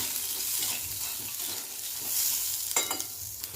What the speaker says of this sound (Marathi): आता ह्याच्यातच तुरीचे दाणे पण भाजून घ्यायचे